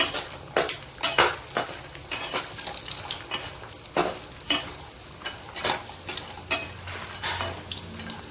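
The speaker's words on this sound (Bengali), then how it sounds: "বড়িগুলো ভেজে নিচ্ছি, একটু হালকা লাল লাল করে ভেজে নেব।" Bori lentil dumplings frying in hot oil in a pan for a vegetarian ridge gourd and potato curry, a constant sizzle under repeated clinks and scrapes of a spatula against the pan.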